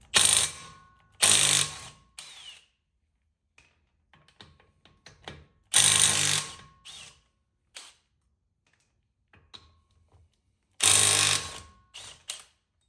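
Lug nuts come off the front wheels of a Nissan 350Z as a power tool fires in loud, sharp bursts of about a second each, separated by quieter clicks and handling noises.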